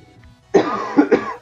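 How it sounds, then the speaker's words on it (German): A person coughs three times in quick succession, the first burst loudest and the next two following close after, all near and clear over a quiet background with no talk. "der Husten ist leider noch nicht ganz weg"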